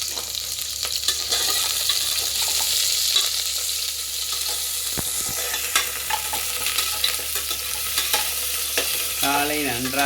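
Goat trotters cook for soup in a pan, giving a steady close sizzle with scraping stirs throughout and no voices.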